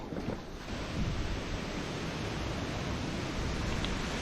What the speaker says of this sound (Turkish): Çok rüzgarlı